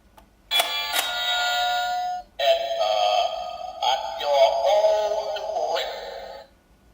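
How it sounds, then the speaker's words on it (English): A small battery-powered Halloween decoration doorbell rings out a series of electronic chime and ding-dong tones, bright and close, in several bursts with brief pauses, without talk over it. "We've got this little doorbell."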